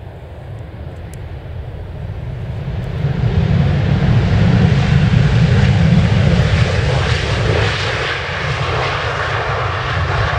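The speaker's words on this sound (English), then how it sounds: "another Ryanair Boeing 737 coming into land." A Ryanair Boeing 737 landing at London Stansted Airport, its jet engines building from a distant roar to a loud, broad rumble as it passes, then easing off while still audible.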